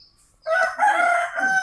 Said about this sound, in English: Sorry for the roosters.